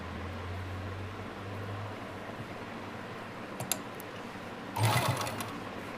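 A sewing machine stitches a small Laddu Gopal doll dress, its low motor hum running steadily at first, then fading, with light clicks and a brief louder handling rustle near the end.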